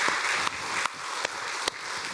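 Applause from a church congregation at a Sunday worship service, a dense wash of clapping that holds steady at moderate level with a few sharper claps standing out, no voices on top.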